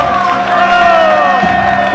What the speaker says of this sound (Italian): Facciamogli un bel applauso che non ho ancora sentito.